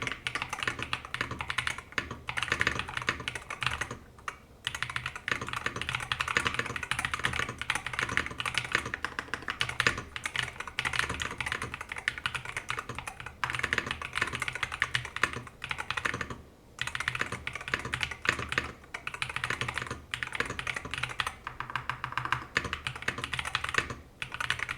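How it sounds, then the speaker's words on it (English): Steady typing on a Madlions Mad68 HE keyboard with Hall Effect switches and textured keycaps, a close, continuous stream of crisp clacks with brief pauses between bursts, and no talking. "we'll just do a quick typing test here, see how it sounds"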